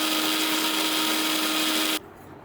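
An electric grinder whirs loudly and steadily, blending roasted spices with sugar into masala powder for Dakor gota fritters, then cuts off abruptly after two seconds, leaving quiet.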